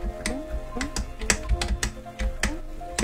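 Computer keyboard keys clack quickly and unevenly during a game speedrun, with close, crisp taps in bursts while a person talks throughout.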